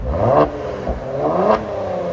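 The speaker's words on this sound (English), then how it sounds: "Kia Stinger with Borla S-type." A 2018 Kia Stinger GT with a Borla S-type exhaust revs twice in quick succession, a throaty exhaust rising and falling nearby with some mechanical clatter.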